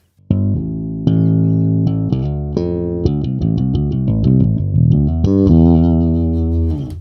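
Bass guitar played through a Valeton GP200R multi-effects unit with the 2K EQ band switched off, a loud, clean sequence of sustained low notes and short runs, each note ringing cleanly.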